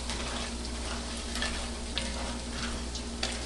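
Homemade chips stirred in hot frying oil, a steady broadband sizzle with occasional soft scrapes and clicks from the utensil, close and even throughout.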